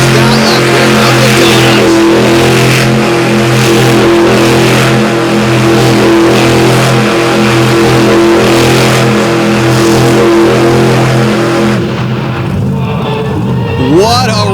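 Monster truck engine at an outdoor Outlaw Monster Truck Drags event in Canfield, Ohio, holding a loud, steady high-revving drone while spinning donuts, then dropping off sharply near the end.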